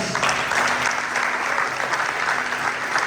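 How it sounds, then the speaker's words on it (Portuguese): Steady applause from a church crowd, dense and continuous clapping that holds at an even loudness throughout. "Uma salva de palmas."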